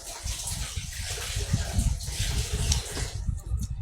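Water gushes and splashes unevenly as hands are washed before a seafood meal, close and moderately loud with irregular surges.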